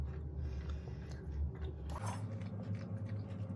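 Soft, close chewing of a plain marshmallow candy, with quiet sticky mouth sounds and light biting that carry on steadily, with no talking.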